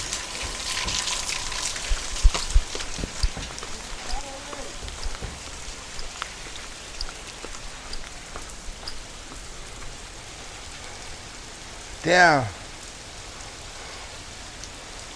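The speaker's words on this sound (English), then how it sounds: "Yeah, we got some rain." Steady rain falls on an outdoor surface in cool weather, a continuous broadband hiss with scattered drops, while someone talks briefly and someone calls out loudly near the end.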